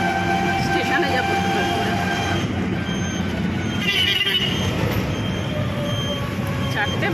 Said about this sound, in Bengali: তোমার বনগাঁ লোকাল ঢুকছে।